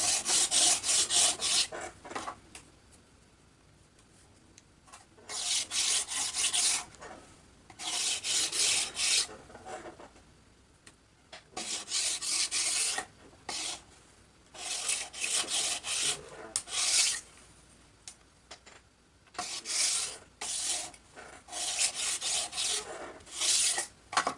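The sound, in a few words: lightly sanding small wooden strips for a model glider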